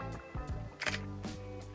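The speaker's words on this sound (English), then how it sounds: "Then I am going to take a picture." Shutter of a camera fitted with a Viltrox 33mm lens set to f/1.4 with manual shutter speed, a short mechanical click and clack standing out over steady background hum.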